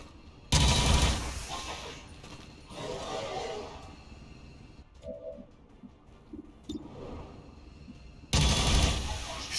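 Gunfire in XCOM 2: War of the Chosen, with a long loud burst of shots, quieter mechanical clicks and shuffling, then a second loud burst at the end.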